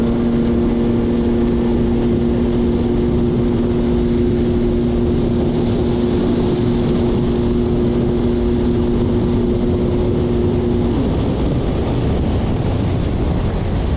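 A Yamaha GP1200R jet ski with freshly reworked pump runs flat out across open water, a loud steady engine drone with rushing water and wind buffeting throughout, its tone holding constant until it drops away near the end.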